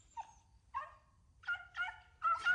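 In a Hindi-dubbed scene from the 2013 film Oculus, a dog in pain gives a series of about five high, quavering whimpers and yelps that grow closer together toward the end.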